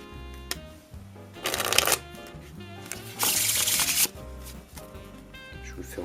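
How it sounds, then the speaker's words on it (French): Playing cards riffle-shuffled American style in two loud, whirring bursts of rapid fluttering clicks, the second one done in the air, with quieter card handling and tapping between them and no talk. "C'est un mélange américain."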